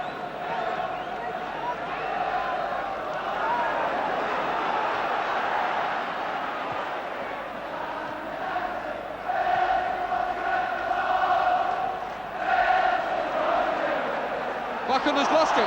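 Football crowd in 1973 keeps up a continuous rumble of cheering and chanting, with louder surges near the end, heard from amid the stands.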